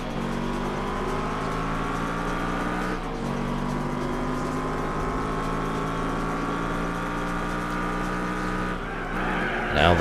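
A Shelby Cobra race car on nitrous in Gran Turismo 4, its engine howling loud and steady with rising pitch through the gears, with a brief dip at a shift and another near the end.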